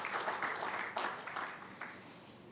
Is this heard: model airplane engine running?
no